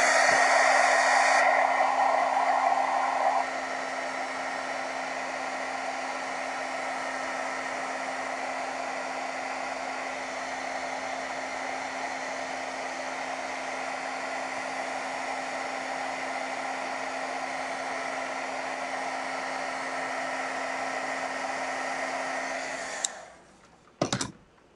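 A hair dryer runs steadily at close range, drying a watercolor painting with a constant whooshing drone and faint hum for about twenty-three seconds. It clicks off near the end, leaving a brief shuffle of handling noise.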